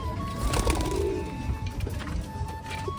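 Pigeons coo steadily in a breeders' loft, the soft, throaty calls repeating close by over a constant low rumble of background noise, with no voices.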